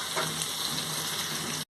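Sliced onions fry in a pan as they turn brown for an egg biryani, giving a steady, close sizzling hiss that runs evenly until it cuts off abruptly.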